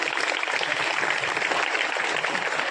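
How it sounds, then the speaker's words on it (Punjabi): Students clap together at a school award ceremony in Punjab, a dense, steady wash of applause from a large crowd that holds evenly throughout with no talk over it. "ਸੋ ਬੱਚੇ ਇੱਕਲੇ ਵਾਰੀ ਫੇਰ ਤਾੜੀਆਂ ਵਜਾ ਦਿਓ"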